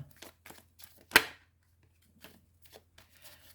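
A deck of tarot cards is cut by hand: one sharp, close papery snap of cards, surrounded by faint soft rustles and handling in an otherwise quiet room.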